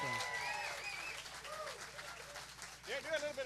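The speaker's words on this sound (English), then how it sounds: "One more round of applause for old Derek on that piano." An audience claps at a live blues music show with guests at a sawmill, the applause close and lively under someone speaking over a microphone.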